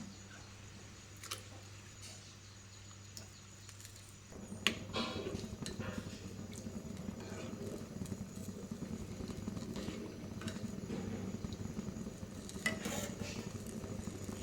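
Soaked nylon sago drops into a pot of payasa and is stirred, a soft splash followed by a steady low simmering hiss with light scraping and occasional clinks of a spoon against the pot.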